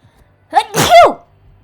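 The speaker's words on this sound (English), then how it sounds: "my sneezes" A single loud sneeze, a short sharp intake followed by an explosive burst, alone in an otherwise quiet room.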